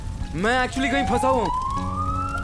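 A fire brigade siren wails outside a hotel, its tone sweeping and rising steadily as a person speaks over it in the foreground.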